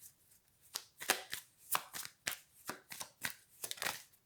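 A deck of cards is shuffled and riffled in a close, quiet sequence of rapid, crisp flutters and soft slaps, repeating in uneven bursts with no talking.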